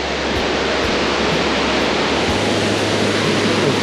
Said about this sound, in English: From the wind this waterfall's producing, and there's a little bit of a mist.